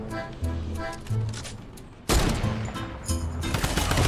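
Gunfire in the Fortnite video game: a few separate shots at first, then a loud, dense burst of rapid firing midway that keeps going to the end.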